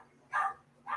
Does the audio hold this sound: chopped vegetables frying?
no